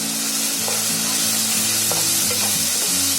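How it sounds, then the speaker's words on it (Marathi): Vegetables frying with turmeric in a pan give a dense, continuous loud sizzle, with a low steady hum beneath and occasional faint spoon clinks, close up and without talk. "आता हे आपलं बघा जास्त फ्राय नाही करून घ्यायचं आहे"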